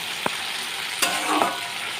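Okra fries uncovered in a pan with a soft, steady sizzle. A few utensil taps and stirring scrapes come and go.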